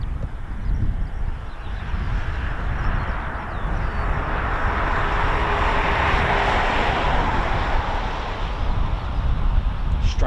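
A Gulfstream jet approaches an air base, its engine a broad, steady roar that swells gradually and stays loud and unbroken, with wind buffeting the microphone throughout.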